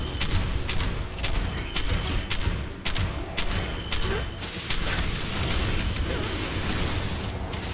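An anti-air turret in Fallout 76 fires a fast string of sharp booming shots, loud and repeated, with a player's voice briefly over the din.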